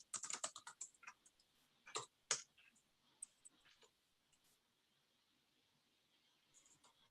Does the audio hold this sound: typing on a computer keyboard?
yes